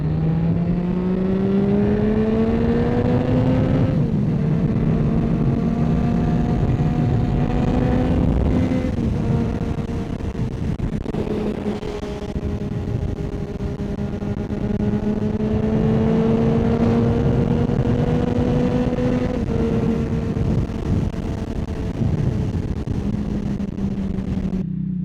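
Motorcycle cruising on the road from the rider's position, a steady engine drone shifting pitch as it speeds up and eases off through the gears, with wind noise throughout and no talk.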